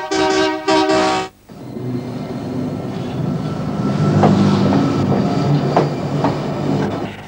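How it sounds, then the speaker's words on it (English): An 8-car electric interurban train sounds its horn loudly twice at the start, then rumbles and clatters steadily along the rails while departing, growing slightly louder. "this 8-car interurban train left Central and headed north"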